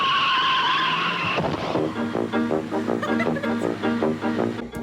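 Car tires squeal in a loud, sustained skid from a 1980s television advertisement, then give way to a quieter, rhythmic sequence of softer sounds.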